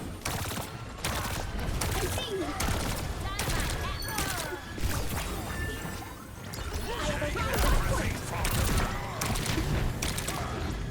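Overwatch 2 match on Eichenwald with sustained gunfire from several weapons, dense rapid bursts, impacts and crashing effects filling a busy battle mix, with a voice talking over it.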